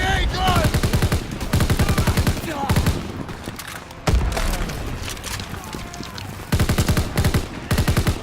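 Suppressive gunfire in a Call of Duty WW2 trench battle, loud bursts of rapid automatic fire alternating with single shots and brief pauses, close and dense, with shouted voices under the shooting.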